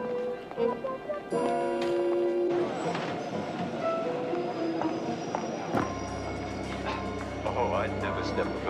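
Passenger train standing at a station, with a steady low rumble, clanks and mechanical noise running throughout under people talking nearby.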